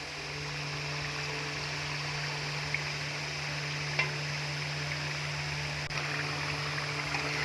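Potato samosas deep fry in hot oil with a soft, steady sizzling hiss. A faint hum and a few small clicks sound beneath it, and no one speaks.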